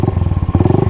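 Modified Honda 125 motorcycle engine revving hard at full throttle, a loud close-up rapid pulsing exhaust note with steady firing rhythm throughout, no talk.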